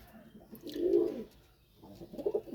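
A nearby pigeon gives a round, rolling coo, then a second softer coo after a short gap.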